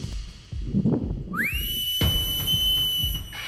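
A whistle is blown as a warning in a Marathi film scene: after some low rustling and movement, a sharp, high whistle rises and holds as one long, loud, steady blast.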